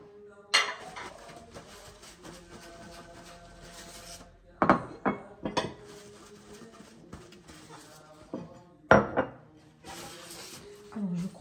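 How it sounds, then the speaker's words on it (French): Plates being washed at a kitchen sink ahead of an Eid brunch: sporadic clatters and clinks of dishes with rubbing and scraping between them, under occasional talk. "je vais laver les assiettes, les sécher"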